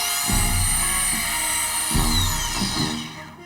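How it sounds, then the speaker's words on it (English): A power drill whines steadily, its motor pitch dipping in short bursts as it bites into pumice concrete, loud and close. "You can drill it."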